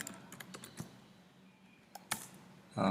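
A computer keyboard is typed on while writing Go code. Quick, sharp clicks come in short irregular bursts with quiet pauses between, and a louder clatter follows near the end. No one speaks.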